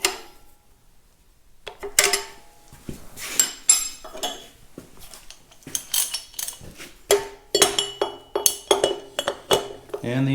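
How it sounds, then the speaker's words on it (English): Metal wrench clinks and taps while fuel injector line nuts are tightened on a Caterpillar D2 diesel engine, a series of sharp close metallic knocks growing busier after a quiet start, with someone talking briefly between them. "We'll just tighten the lines now."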